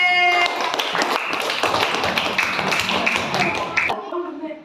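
Classroom of primary school children clapping for a group after an oral rehydration solution demonstration, dense irregular claps lasting about four seconds before cutting off abruptly, with voices mixed in.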